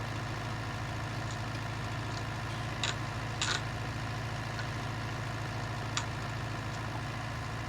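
A County 1174 tractor, built on a Ford 5000 standard chassis with a six-cylinder engine, idles with a steady low diesel drone throughout. A few faint clicks break the drone, and no one speaks.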